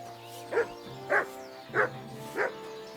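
Four evenly spaced barks from a dog in Kingdom Come Deliverance II, moderately close and fairly loud over a steady, tonal game ambience.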